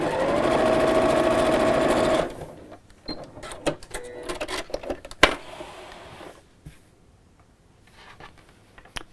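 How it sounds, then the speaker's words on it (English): A sewing machine stitches steadily across a fabric fold on a cushion cover for about two seconds, then stops, leaving scattered light clicks and handling noises. "and then sew across the fold."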